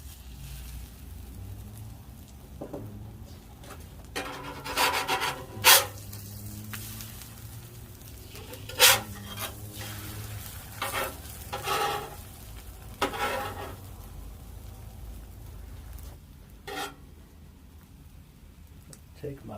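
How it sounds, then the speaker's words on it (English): An egg frying on a Monument Grills 56000 griddle, sizzling steadily, with scraping and clattering of a spatula on the metal surface and a voice talking over it. "Egg going in there."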